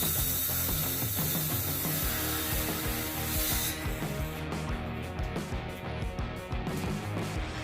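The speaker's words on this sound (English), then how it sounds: "I just ran out of the 11-inch sections of 2x4, so I'm just cutting some more." A power saw cutting 2x4 wooden boards into short sections, heard as a loud, continuous whirring and grinding roar that drops in brightness midway and carries on in gritty, rhythmic pulses.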